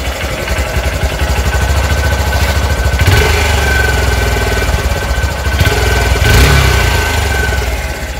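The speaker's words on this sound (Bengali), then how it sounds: "আমি তোমাদের এক্সস্ট সাউন্ডটা শুনিয়ে দিচ্ছি" Steady, loud idle of a Honda Shine SP 125 motorcycle exhaust after an engine oil change with Motul oil, a close continuous throbbing rumble with a couple of slight swells and no talking.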